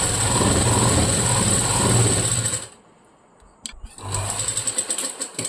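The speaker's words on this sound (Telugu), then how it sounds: "ఇప్పుడు దీన్ని మొత్తం ఒకటే స్టిచ్ అని ఈ చివరి నుండి ఆ చివరి వరకు" A sewing machine runs a continuous stitch along blouse fabric, loud and close with a rapid rattling hum, stops for about a second, then starts stitching again.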